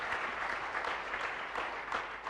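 An audience fills a hall with steady, dense clapping at a public event with the Tamil Nadu Governor, sustained at an even level throughout.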